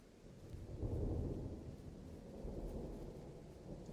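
A thunderstorm in the game Firewatch: a low, rolling rumble of thunder swells and then slowly tapers, with a soft rain hiss beneath, fairly quiet and distant.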